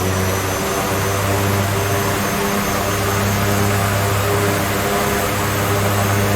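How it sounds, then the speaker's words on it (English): Simulated aircraft engines at takeoff power in the X-Plane 11 flight simulator, departing runway 10 at St. Barth's, a loud, unbroken droning roar with steady humming tones throughout. "All right, takeoff power set."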